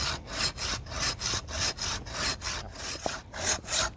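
A common hand saw cuts through a large bonsai tree stump in steady, rhythmic back-and-forth strokes, about eight close, crisp rasping passes with a brief knock partway through.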